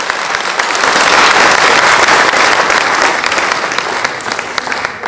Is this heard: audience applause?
yes